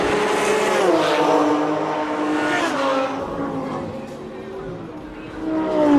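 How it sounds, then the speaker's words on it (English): A Lamborghini Huracan race car at a national extreme festival track event drones steadily with a loud, sustained engine note that shifts in pitch, rising again near the end, under continuous commentary. "The number 1 plate there on the Trans-Africa Racing and Stradale Motorsport Lamborghini Huracan."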